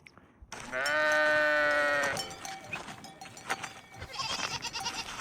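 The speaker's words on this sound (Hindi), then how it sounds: "ये इनकी बकरियाँ हैं।" Goats on a Pakistani farm bleat loudly and close by, one long wavering cry followed by shorter overlapping calls from the herd.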